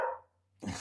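A single dog bark from a household dog, fairly close, brief and alone, with a quieter second yelp after a short pause and low steady hum in the room.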